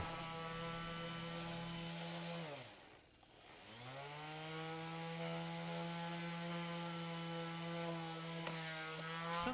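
A Dnipro-M DSO-200BC orbital sander whines with a steady motor hum, then winds down to near silence as it cuts out and spins back up to full speed, running on alone without talk.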